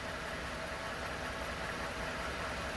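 A Ford F-150 engine idles steadily at close range, a faint, even mechanical hum with no change in pitch and no talking over it.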